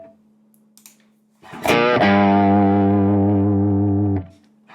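Electric guitar lead tone played through an amp into a 2x12 cabinet: a pick scrape, then one sustained distorted note ringing steadily for about two seconds before being cut off, loud and close in a room.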